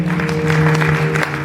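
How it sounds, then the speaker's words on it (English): A church congregation claps together for about a second and a half, a loud, close, dense patter of hands over a sustained low musical hum. "Let's give her a round of applause."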